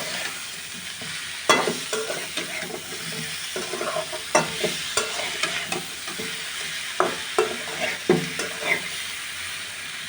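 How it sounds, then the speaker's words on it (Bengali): Cauliflower and potato fry in a pan with ground cumin and coriander while a spoon stirs them, making repeated close scrapes and knocks over a continuous sizzle. "এবার আরেকবার মশলাটা আমি কষিয়ে নেব ভালো করে, আরেকবার একটু ভেজে নেব।"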